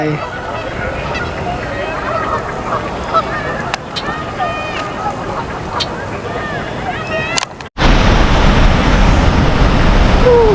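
Outdoor duck calls, honking and quacking repeatedly over a steady wash of water noise in Canada, then a sudden cut to louder rushing water.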